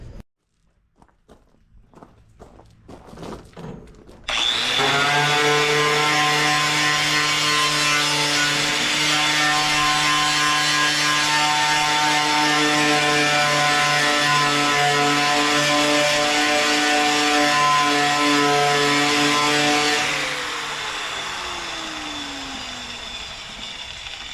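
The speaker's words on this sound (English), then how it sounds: "I'm going to try to run that grinder across that fender and see if it strips that paint" An angle grinder fitted with a roll lock disc strips paint from a steel car fender on a 1976 Nova, with a few handling knocks, then a loud, steady, close whirring grind for about fifteen seconds before the tool winds down.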